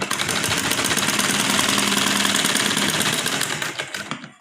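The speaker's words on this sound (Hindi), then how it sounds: "1/2 इंच पर इस तरह सिलाई लगाते हुए लेके आएंगे।" A sewing machine stitches a half-inch seam on a sleeveless top, running as a loud, steady, close whirring drone that stops abruptly just before the end.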